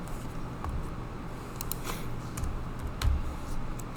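Several quiet, scattered keystrokes on a computer keyboard as a value is typed in, faint clicks spaced irregularly over a low steady background hum.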